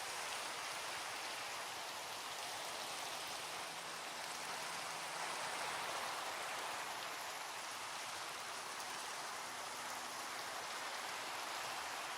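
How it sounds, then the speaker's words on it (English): Heavy rain pours down steadily and loudly for the whole stretch, a dense, unbroken hiss of drops drumming on a surface, with no voices. "the sound of the rain is aggressively loud"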